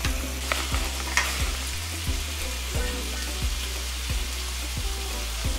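Mixed vegetables stirring and sizzling in a pan on low heat, with a steady frying hiss and repeated scraping strokes of the spoon, close and continuous without speech.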